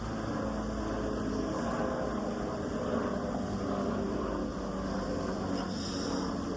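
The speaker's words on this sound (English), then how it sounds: "And sorry, there's a helicopter." A helicopter passes overhead outdoors as a steady, dense rotor and engine rumble, loud and constant throughout with no talking.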